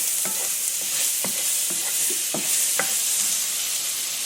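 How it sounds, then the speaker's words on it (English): Butter melts in a hot pan right after fish has been pan-seared, hissing in a loud, steady, close-up sizzle with soft, faint taps of a utensil beneath it. "Now that we're done cooking the fish, we're going to add about a tablespoon more of butter"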